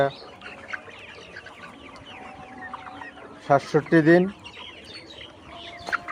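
Layer pullet chickens, 67 days old, cluck and cheep softly in a poultry shed, with a louder burst of squawks in the middle and a voice speaking briefly.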